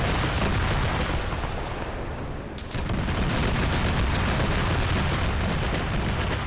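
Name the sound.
heavy gunfire in a WW2 video game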